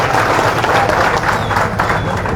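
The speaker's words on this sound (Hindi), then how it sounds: "प्रधान जी के लिए जोरदार तालियां।" A crowd at a rally of sanitation and fire brigade employees' unions in Panipat breaks into loud, continuous applause, a dense wash of many hands clapping together for over two seconds.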